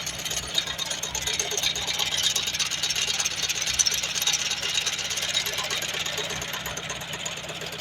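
A Farmall H tractor engine idles with a steady, rapid chattering knock, moderately loud and even throughout, with a faint background hiss.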